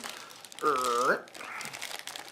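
A plastic bag holding dice crinkles briefly, with a short, loud tonal squeak in the middle. A soft rustle follows.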